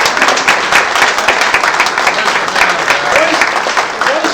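Guests at a 25th-anniversary celebration dinner of Vasco supporters break into loud, near applause, with brisk, dense clapping running the whole time and crowd voices mixed in beneath it.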